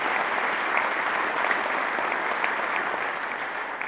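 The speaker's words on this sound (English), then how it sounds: "Big round of applause." An audience claps at a 194th Wing change of command ceremony, a dense, steady wash of applause from many hands that holds at an even level throughout, with no voices standing out.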